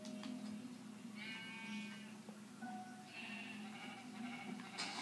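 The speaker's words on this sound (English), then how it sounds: "Oh, there's a little sheepy weepy." A sheep in the video game Minecraft gives several faint, wavering bleats spread through the stretch, with soft game background sound beneath and no talking.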